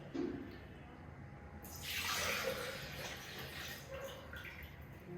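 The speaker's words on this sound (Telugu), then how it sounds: "350 ml of measurement normal water కానీ కూల్ వాటర్ కానీ యాడ్ చేసుకోండి ఫస్ట్" Roughly 350 ml of plain or cool water is poured into a shaker for a Herbalife shake, a soft steady splashing stream that swells after a brief quiet start and continues faintly, with no talking.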